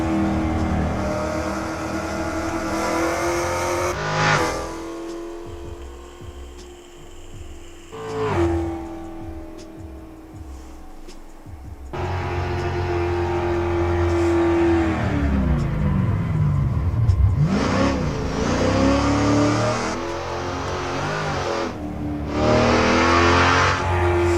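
A Ford Coyote V8 car revving hard while drifting sideways in snow, the engine note rising and falling through repeated bursts of throttle, loud and close with no voices.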